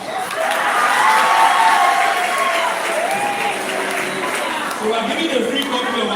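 A room of teachers at a summit claps and cheers in a sustained, even wash, with faint voices and a few whoops threading through the steady applause.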